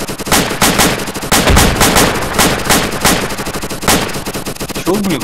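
Rapid automatic gunfire from the ArmA 2 combat game with the ACE mod, loud continuous bursts of shots cracking in quick succession with brief gaps, filling the clip.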